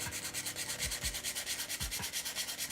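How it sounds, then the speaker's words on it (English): Sanding a small 3D printed Mandalorian glove armor piece by hand, steady rhythmic back-and-forth rasping strokes, close and quiet with no talk. "if you're sanding a smaller armor piece"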